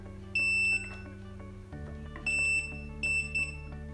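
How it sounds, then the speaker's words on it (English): A multimeter continuity tester beeps while checking the wiring of a Squier VM Jaguar guitar, three clear high tones of uneven length over a low background hum. "Using a multimeter, it'll make a beep if everything is connected."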